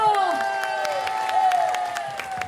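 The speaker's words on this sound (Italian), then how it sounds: "adesso avete l'ultima opportunità per applaudire come sapete fare voi, quindi scatenatevi" A crowd in the piazza at Jesolo applauds and cheers under a held musical tone, the clapping dense and continuous with shouts mixed in.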